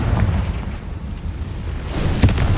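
A Confringo fire spell blasting in Hogwarts Legacy: a dense, rumbling roar with a sharp crackling pop late on, continuous and fairly loud.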